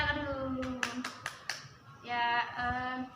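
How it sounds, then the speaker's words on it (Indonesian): A small group of children clap their hands in a classroom lesson, producing a few sharp scattered claps over a background of voices and singing, fairly faint overall. "tepuk tangan dulu"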